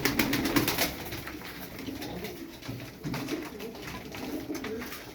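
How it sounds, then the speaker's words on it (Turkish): About twelve ornamental pigeons coo steadily, several overlapping low, throaty calls close by with a continuous murmur of birds in the background. "12 tane kuş var burada"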